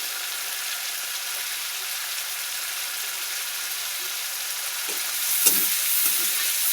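Rohu fish oil frying in a pan, a steady broad sizzle with light stirring scrapes and a brief louder spatter toward the end, no voices.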